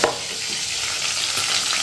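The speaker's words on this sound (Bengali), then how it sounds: "মাছ ভাজা হচ্ছে" Fish pieces fry in a pan of hot oil, giving a close, bright, steady sizzle with a brief stir near the start.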